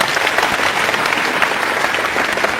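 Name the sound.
applause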